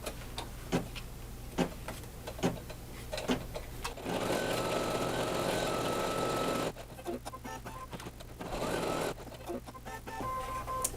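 An embroidery machine stitching a placement outline for appliqué pieces, with rapid mechanical ticking and clattering bursts, a longer steady run of stitching, then more intermittent clicks, close and moderately quiet.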